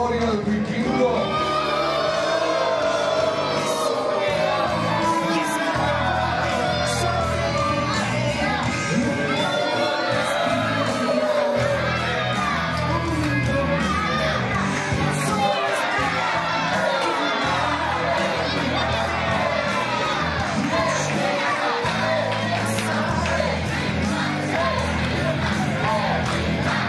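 A wrestling arena crowd at a lucha libre event cheers, whistles and shouts continuously at a steady loud level, with a commentator talking over the noise.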